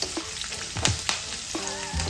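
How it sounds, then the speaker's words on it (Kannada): Garlic fries in hot oil for a mango pickle, a close, even sizzle with a few sharp pops and crackles and a stirring clatter near the end, with no voices. "ಬೆಳ್ಳುಳ್ಳಿನ ಸ್ವಲ್ಪ ಫ್ರೈ ಮಾಡಬೇಕು"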